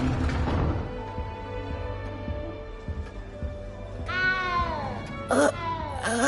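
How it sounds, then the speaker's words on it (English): A cat meowing in the video game Hogwarts Legacy, two short plaintive meows near the end, the second higher and sharper, after a quieter stretch of ambient sound and a brief voice. "You don't need to be frightened, little cat."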